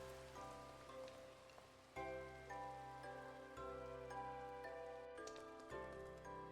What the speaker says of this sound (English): And eventually the rain always stops.